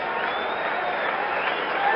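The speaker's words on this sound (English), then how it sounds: "Now the crowd starting to build its applause" A baseball crowd at a 1977 World Series game between the Dodgers and Yankees, a dense wash of applause and crowd noise that holds steady and swells slightly toward the end.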